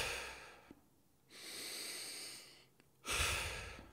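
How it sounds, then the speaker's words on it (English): Deep, fast breaths drawn in and pushed out, close to the ear, with loud airy rushes separated by short quieter pauses. "If you take fast, rapid, deep breaths in"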